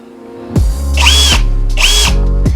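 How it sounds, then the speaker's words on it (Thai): An XCORT cordless drill drives screws into wood in two loud, close bursts: each whirs up to speed with a rising motor whine, then winds down as the screw seats, with no one talking. "ลองขันสกรูเย็บไม้นี่ติดกันนะครับ"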